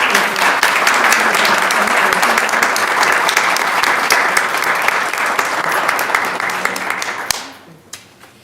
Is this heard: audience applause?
yes